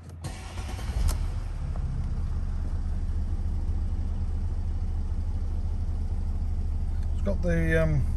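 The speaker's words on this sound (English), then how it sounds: "I'll jump in and I'll just start the car up for you." A Mercedes-Benz C350 CDI AMG Sport automatic diesel cranks and fires up close by, then settles into a steady low idle rumble that continues to the end, with a brief chime near the close.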